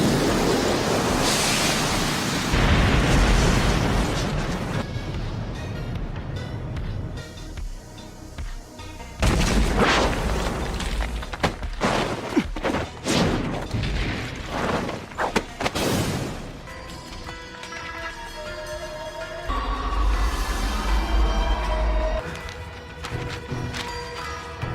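A fire style jutsu explosion from a Naruto anime fight, with heavy roaring blasts, deep booms and rushing whooshes that swell and fade over a long noisy stretch.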